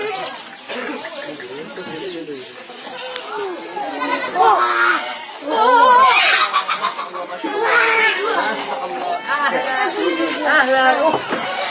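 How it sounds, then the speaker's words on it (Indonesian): A month-old goat kid bleats repeatedly among clucking chickens and other farm animals, the calls wavering and close, overlapping with people talking nearby. "coba dilihat-lihat nih anak kambingnya"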